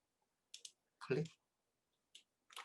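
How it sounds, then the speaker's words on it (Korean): Sharp mouse clicks in 3D modeling software, a quick double click, then a single click, and a final double click, each crisp and isolated against silence. "그리고 이 부분에도 클릭."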